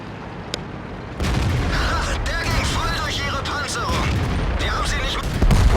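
Tank cannon fire in World of Tanks, a booming shot from the game mixed under continuous game noise, with a sharp report near the start and another heavy hit at the very end.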